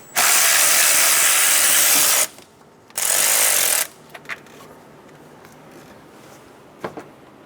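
A ratchet with a 10mm socket loosening the air intake screws on a 2005-2015 Toyota Tacoma 2.7L L4, two loud close bursts of rapid clicking followed by a few faint clinks and taps.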